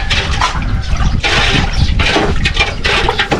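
Water pouring into a cooking pot, a loud close gushing splash in uneven surges that swell and ease over a few seconds, with no voices.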